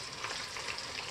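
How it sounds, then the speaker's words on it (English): Catfish pieces sizzle in hot oil in a frying pan, giving a close, steady, crackling hiss that runs without a break through the whole short moment. "you see it starts to sizzle immediately"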